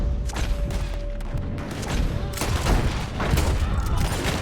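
Rapid gunfire in the Western video game Red Dead Redemption 2, a dense volley of shots with crackling reports over a rumbling background, with a faint voice briefly present.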